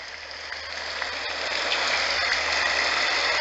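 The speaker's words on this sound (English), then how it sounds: "And it's set on rain." A white noise machine set to its rain setting gives off a steady, dense hiss of rainfall that swells slightly louder and then holds evenly.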